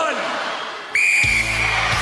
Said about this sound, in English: Dean, you will start on my first whistle